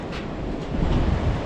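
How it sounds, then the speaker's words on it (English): Rushing river water flowing beneath a trail bridge in the Khumbu region of Nepal between Namche and Tengboche, a steady broadband roar mixed with wind buffeting the microphone, continuous and fairly loud with no speech. "we are crossing the river again"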